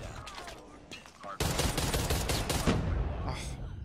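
Gunfire in a ranked first-person shooter match from a Type 63 rifle, rapid bursts of loud shots in a dense volley after a quieter stretch, with a person talking over parts of it.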